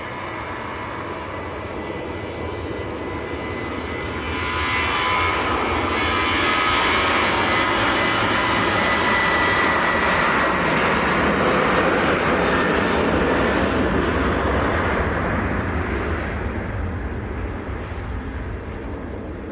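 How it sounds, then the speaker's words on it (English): An Etihad Boeing 787-9 airliner arriving at Manchester Airport makes a broad jet rumble that swells gradually, holds, and eases off slightly, with no talk over it. "787-9, here it comes."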